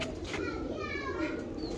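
A pet pigeon coos softly up close while someone talks over it, with a busy ambient background.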